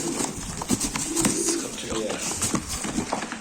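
Pigeons cooing in a coop, several birds murmuring continuously and fairly close, with clicks and shuffling noise throughout.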